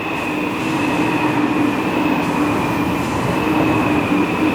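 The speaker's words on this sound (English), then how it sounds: "there's a train going by" A train rumbles past steadily nearby, a continuous roar with a faint high metallic whine from the wheels and no voices.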